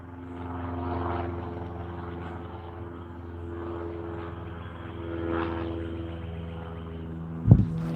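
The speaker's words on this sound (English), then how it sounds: "Can you see the plane?" Propeller airplane passing overhead outdoors, a faint, steady broadband drone that swells and fades gently over several seconds, ending with a brief sharp knock close by.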